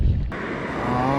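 Busy road traffic passing steadily nearby, a continuous broadband rush and hum of vehicles heard close and fairly loud, with no voices over it.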